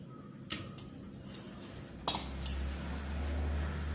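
Boneless chicken pieces go into a pressure cooker, giving a few sharp metallic clinks and a soft scrape against the pot, close and quiet, followed by a low steady hum.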